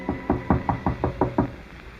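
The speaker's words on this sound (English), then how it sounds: "Her father knocks at the door." Knocking on a door in an old radio drama: eight quick, evenly spaced raps, close and crisp, alone without speech.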